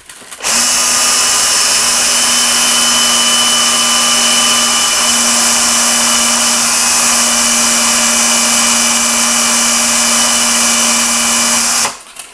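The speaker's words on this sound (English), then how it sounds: "start moving the sandpaper or emery cloth slowly up and down just until it starts getting through to the metal" A drill chuck spins an e-cig mouthpiece while fine sandpaper or emery cloth strips paint from it, a loud steady high-pitched whirring hum running unbroken for about eleven seconds, then winding down.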